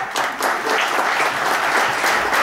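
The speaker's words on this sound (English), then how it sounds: "give Richard a round of applause" An audience at a stage hypnotism show claps in a sustained, even round of applause, loud and full, with faint crowd murmur beneath.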